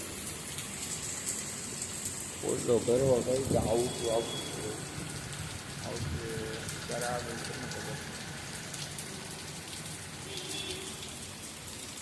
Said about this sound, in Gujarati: વરસાદ પણ બહુ આવે છે.